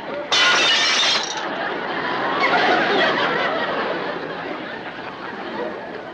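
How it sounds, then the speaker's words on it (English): A piece of glass dropped and shattering, with a sharp crash followed by scattering tinkles, then a lingering rush of laughter and audience noise. "I can drop another piece of glass and break it"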